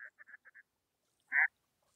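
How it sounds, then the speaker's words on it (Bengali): Ducks on a small village pond quack quietly: a quick run of short calls, then a pause and one louder quack. "এখানে ছোটখাটো পুকুর এবং এখানে অনেকগুলো হাঁস রয়েছে। হাঁস পানিতে খেলা করছে"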